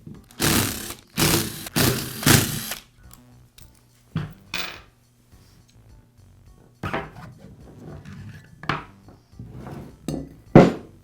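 Screws are backed out of the upper housing of a Porter Cable router during a repair, heard as bursts of close whirring from a powered driver separated by quieter handling clicks and small metallic rattles.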